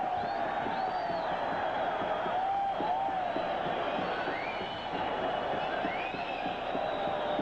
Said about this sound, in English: Big crowd on hand. Very noisy crowd.